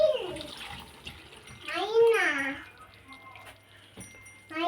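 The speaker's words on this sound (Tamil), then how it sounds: "நல்லா கிண்டி புளி தண்ணியை உள்ள ஊற்றிக்கிடுவோம்." Tamarind water is poured into a pond carp curry cooking in a pan, giving a brief liquid splash and trickle. Someone talks over most of it in close, clear speech.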